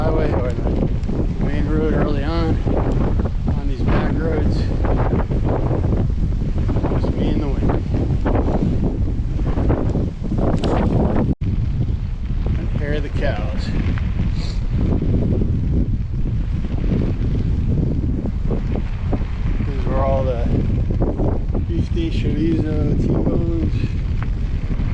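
Strong wind buffets the microphone during a bicycle ride on quiet back roads, a loud continuous roar and rumble running through the whole stretch, with a voice speaking over it.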